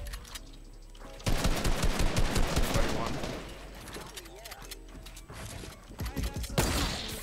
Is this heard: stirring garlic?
no